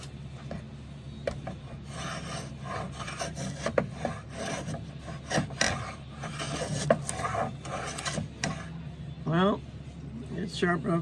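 A Stanley No. 5 hand plane fitted with a replacement tote and knob takes repeated rasping shaving strokes across wood, close and brisk, while a person talks quietly in between.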